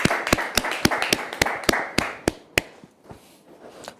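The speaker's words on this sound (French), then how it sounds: "tous ceux qui sont sur le plateau ont applaudi pour vous dire qu'on vous aime très fort" A studio audience on a set applauds with sharp, overlapping hand claps, loud and dense at first, then thinning out into a few scattered claps that trail off.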